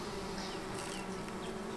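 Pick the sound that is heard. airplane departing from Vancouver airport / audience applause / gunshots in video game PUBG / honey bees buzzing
honey bees buzzing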